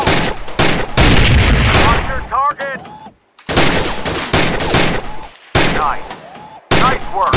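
Bursts of AK47 assault rifle fire in the VR shooting game Gun Club VR, loud and close, coming in several rapid automatic strings separated by brief pauses, with clinking mechanical sounds between them.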